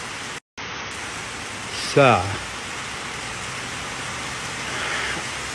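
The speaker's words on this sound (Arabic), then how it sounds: "المطر وقف ورجع ثاني يهب" Steady rain pours as a broad, even hiss around a street, close and constant, with a brief chirp and a short voice over it.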